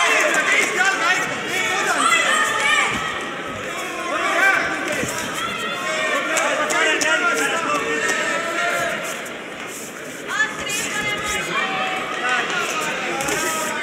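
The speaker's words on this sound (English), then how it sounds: "I can hear some encouragement coming for different fighters from all different parts of the arena here." Arena crowd cheering and shouting encouragement during a women's fight, a continuous murmur of many voices with a commentator talking over it throughout.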